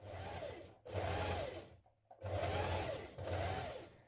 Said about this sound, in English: Now we're going to stitch down this open edge with top stitching close to the edge.